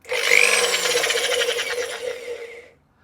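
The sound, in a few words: hand drill turning speedometer cable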